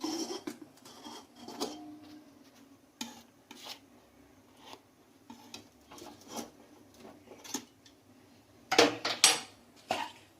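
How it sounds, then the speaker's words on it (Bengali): A bowl of eggless banana cake batter is set down onto hot sand inside a pressure cooker, giving scattered metallic clinks and scrapes. A louder burst of clattering comes near the end, with no talking. "এবারে আমি ব্যাটার দেওয়া কেকের বাটিটা ওপর থেকে বসিয়ে দিচ্ছি"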